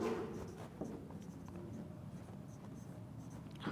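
Pen scratching a name by hand on paper, a quiet, steady scribble of small strokes that runs continuously throughout, faint and close with no other sounds over it.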